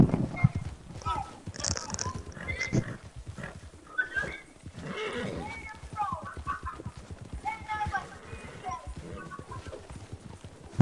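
A horse in a video game clip-clops along with steady hoof beats and gives occasional whinnies, heard under nearly constant excited talking from players.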